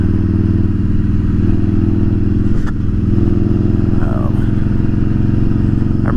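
A motorcycle cruising steadily, its engine a loud, constant low rumble, with a brief clattering jolt around the middle as it rolls over a bumpy bridge.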